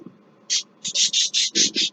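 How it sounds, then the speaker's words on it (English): Birds calling outdoors in the morning, a quick series of about six short, bright chirps in close succession, fairly near, over a faint low background. "Excuse the birds' noises."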